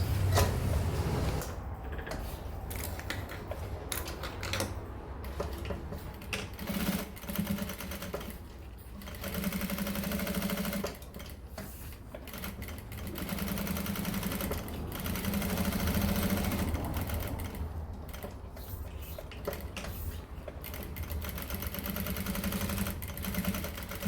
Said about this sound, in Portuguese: Agora eu vou passar uma costura na volta toda, prendendo o forro no principal.